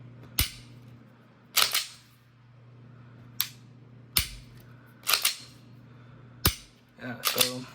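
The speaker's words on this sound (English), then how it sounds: "This is an Overwatch aluminum trigger, so it has a little bit of a lighter pull, and I'll let you guys hear it." Several quiet, sharp mechanical clicks from the Overwatch aluminum trigger of a Glock competition pistol being dry-fired, spaced irregularly about a second apart over a low steady hum.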